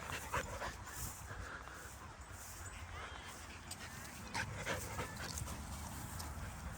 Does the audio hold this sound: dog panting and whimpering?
yes